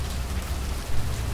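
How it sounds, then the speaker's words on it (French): Rain falls steadily into a water trough as a dense, even hiss with a low rumble beneath, close and continuous. No voices. "Goutte après goutte, la pluie remplit l'abreuvoir d'une eau qui semble se mélanger au fond."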